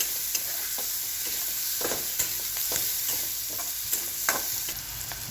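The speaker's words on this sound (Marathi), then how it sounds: "त्यानंतर टाकणार आहे टोमॅटो, हळद, सर्व साहित्य चांगलं परतून घ्यायचे।" Tomato, turmeric and vegetables for a peas and cauliflower dish stir-frying in a pan: a steady close sizzle broken by repeated scrapes and taps of a spatula, no voices.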